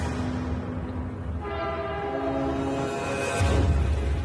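A fully loaded 3,600-ton freight train hauled by locomotives rumbles steadily while its horn sounds a sustained, loud chord through the middle, with heavy low-end rail noise swelling near the end.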